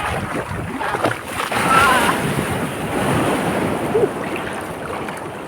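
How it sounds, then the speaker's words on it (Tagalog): Ocean waves washing near a small fishing boat just back from sea, a continuous rushing surf with wind buffeting the microphone and a faint voice underneath. "Alon."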